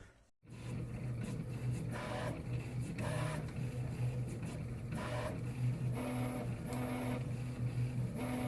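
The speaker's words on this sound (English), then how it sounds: "There's a 3D printer behind me." A 3D printer running steadily, with a low motor hum and bursts of whirring and stepping movement that repeat at uneven intervals, close by and alone with no talking.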